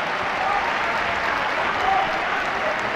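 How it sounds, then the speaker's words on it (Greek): Audience applause at a Davis Cup tennis match, a dense, even wash of clapping held steady and moderately loud throughout. "Το πιο θερμό σας χειροκρότημα για όλα τα παιδιά."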